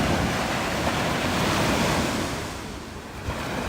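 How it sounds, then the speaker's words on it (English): Ocean surf rolls onto Myrtle Beach in a steady, close wash of breaking water, with wind buffeting the microphone throughout and no talking. "I totally love the sound of the water."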